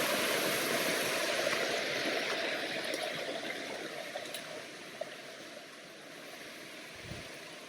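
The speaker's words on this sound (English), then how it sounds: "the water's running on the rocks and it kind of makes it sticky so your feet don't slip on that part" Water rushing steadily over rocks beside a waterfall at a hidden spot in Thailand, a constant broadband roar that stays loud and unbroken throughout with no voices.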